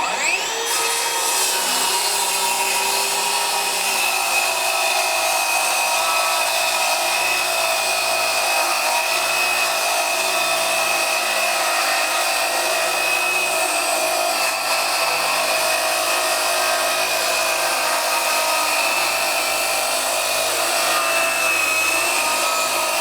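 A Ryobi 18V ONE+ HP brushless 7-1/4-inch circular saw, model PBLCS300B, whines loudly and steadily as it cuts through wood. The blade's high-pitched drone stays close and continuous for the whole stretch, with no talking.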